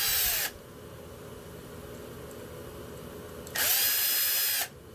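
Power screwdriver backing out tiny 1.4 by 8mm screws from a micro brushless motor mount on a 1/24 scale RC crawler: two short, loud whirring bursts at the start and end, with quiet in between.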